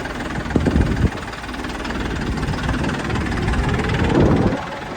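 A John Deere 5210 tractor engine runs steadily nearby, a rough mid-low chugging hum with a couple of louder revving bursts.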